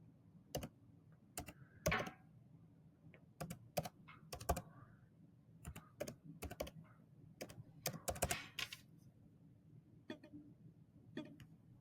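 Card details being typed on a computer keyboard: irregular bursts of crisp key clicks, sometimes single taps, sometimes quick runs, close and quiet in an otherwise silent room.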